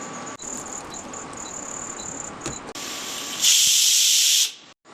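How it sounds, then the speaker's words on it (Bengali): A pressure cooker with khichdi made from dalia hisses with a thin steady whistle, then blasts a loud rush of steam for about a second before cutting off, close and alone. "এবার এটাকে আমি প্রেসার কুকারে দিয়ে 2টো সিটি দিয়ে নেব।"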